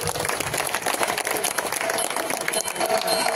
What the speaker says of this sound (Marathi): त्यांच्यासाठी एकदा जोरदार टाळ्या होऊन जाऊ देत